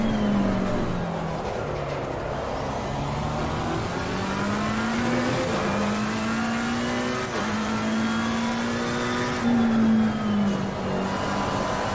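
A Porsche race car in Assetto Corsa Competizione at Alton Park, its engine droning loud and steady throughout and rising and falling in pitch with gear changes, with no voices over it.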